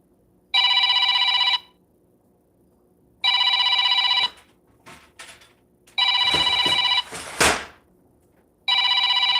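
A telephone rings loudly in repeated bursts, each about a second long with silent gaps between, while faint knocks and handling noises sound in the pauses.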